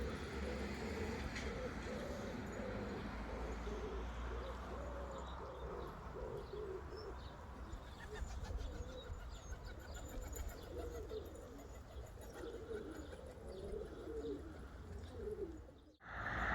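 Pigeons cooing steadily as a flock returns from flight, soft repeated coos and chirps over a constant outdoor rumble.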